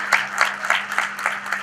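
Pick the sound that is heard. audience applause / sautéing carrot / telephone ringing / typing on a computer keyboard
audience applause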